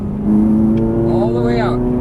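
Ferrari 430 accelerating on a race track, a loud steady engine tone climbing in pitch as revs build, heard from inside the car while an instructor talks over it.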